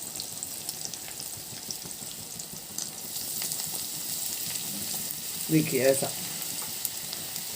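Cabbage and other vegetables stir-fry in a hot pan for egg Hakka noodles, a steady close sizzle with a louder crackling burst near the end as more goes in. A voice speaks briefly at the start.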